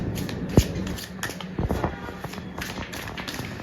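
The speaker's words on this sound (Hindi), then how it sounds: "जब तक मैं कार्ड शफल कर रही हूँ" Tarot cards are shuffled close by with quick riffling and tapping. One sharp snap rises above the soft, irregular flutter of the deck.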